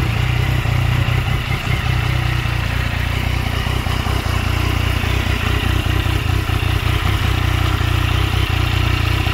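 A Yamaha Tracer 900 motorcycle idling close by, a steady loud engine drone with a constant low rumble and faint mechanical clatter, no talking.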